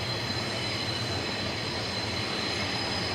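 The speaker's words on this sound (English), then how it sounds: "Can you hear the screech of the trains as they're going by?" Trains pass near Ueno in Tokyo along the Yamanote Line, giving a continuous rolling rumble with a thin high-pitched wheel squeal sustained above it.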